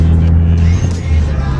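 Mitsubishi Evo X running with no hood, a loud low engine drone with steady rumbling tones close by, dipping briefly before settling back to a constant hum.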